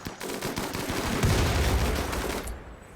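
Video game battle with gunfire and mortars firing, a dense, loud, continuous barrage of shots and blasts that cuts off sharply near the end.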